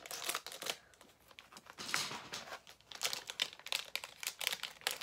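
Scissors crisply snip Fortnite merchandise packaging amid crinkly rustling, several bursts of crackling plastic close by with brief pauses between.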